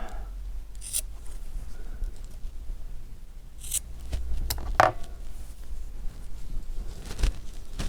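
Scissors trim a felt scarf on a needle-felted snowman brooch, giving a few crisp, separate snips spaced a second or two apart against a quiet background.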